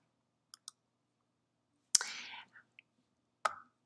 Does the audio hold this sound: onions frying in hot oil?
no